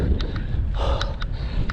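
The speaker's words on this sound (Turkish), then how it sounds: "Rüzgar." Low buffeting rumble of wind hitting the microphone, gusting unevenly, with a few brief higher puffs over it.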